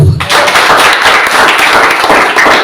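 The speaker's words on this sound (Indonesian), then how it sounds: "beri tepuk tangan Tuhan" A church congregation applauds in a loud, dense burst of clapping that fills the space close up and carries on steadily for a few seconds with no talk over it.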